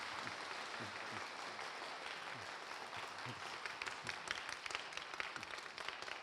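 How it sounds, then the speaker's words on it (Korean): Sustained applause of thanks from a seminary worship gathering's audience, a dense even wash of many hands clapping steadily throughout, fairly distant and uniform with a faint voice underneath. "우리 감사의 박수 한번 드리시기 바랍니다"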